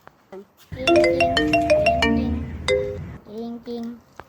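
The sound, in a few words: phone ringing while placing a call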